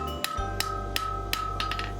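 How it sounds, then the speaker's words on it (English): A blacksmith hammers hot iron to shape the end of a fireside poker, with six or seven sharp, ringing strikes spaced at roughly regular intervals over a low steady hum. "And more hammering to finish the end."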